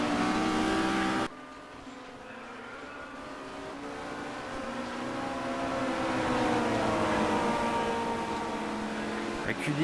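Touring cars racing at the 1990 WTCC round in Barcelona, a Honda and a Citroën BX, give a loud continuous engine roar with rising and falling pitch as they accelerate, under steady commentary.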